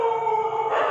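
Street dog howling, a sustained, steady wail held at a near-constant pitch, loud and continuous for a moment with faint background noise.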